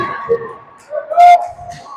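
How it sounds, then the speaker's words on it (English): A referee's whistle at a high school hockey game between Waconia and Chisago Lakes gives one short, sharp blast in the arena, cutting through crowd and rink noise. "And a whistle."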